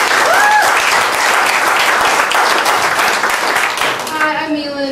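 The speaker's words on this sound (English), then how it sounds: "so we want to give a round of applause" Audience at an Eritrean community luncheon applauds the Eritrean youth organizers, loud sustained clapping throughout, with a few whistles or cheers and a voice beginning to speak as it winds down.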